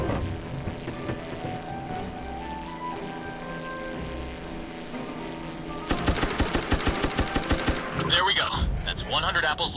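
Propeller plane in the Brew Barons video game droning steadily, joined later by a louder, rapidly pulsing engine passage and then a burst of clattering noise near the end.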